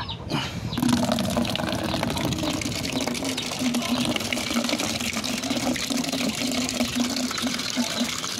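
Water is filled into a container as drinking water for goats on a small farm, with a steady gushing, splashing stream close by that starts after a brief moment and continues unbroken.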